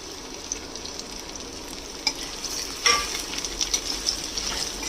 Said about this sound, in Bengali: কুমড়োটাকে দিয়েও একটুখানি ভাজবো কুমড়োটা হালকা করে সাঁতলে নিয়েছি